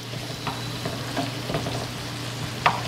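Onions for Jamaican ackee and saltfish sweat in a hot pan with a steady low sizzle, broken by a few soft stirring scrapes and one sharper clink near the end, close by with no talk.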